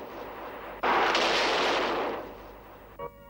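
A single loud cannon blast, a broad booming roar that swells and fades over about a second and a half, followed by a brief faint click.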